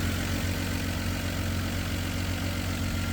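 A 1995 Toyota Land Cruiser FZJ80 idles at about 1100 rpm while warming up on a cool day in Southern California, a steady, smooth low rumble held close and unchanging throughout, with no talking.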